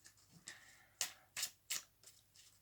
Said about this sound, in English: we're just going to cut the cards